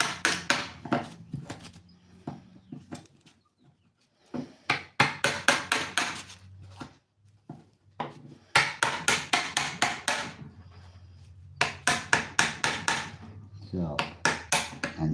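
Hammer blows on a wooden handle being shaped by hand, struck in quick rhythmic bursts of sharp taps separated by pauses, close and loud, with a person talking in the gaps.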